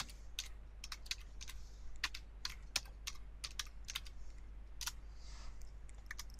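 A computer keyboard clicks quietly in an irregular run of keystrokes as a chart title is typed in Excel 2013, with no talking.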